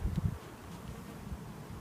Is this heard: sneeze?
no